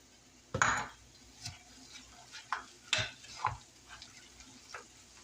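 Meat loaf mixture with cracker crumbs and ketchup stirred in a bowl, a series of scraping, clinking spoon strokes at an uneven rhythm, close and fairly quiet, with no talk.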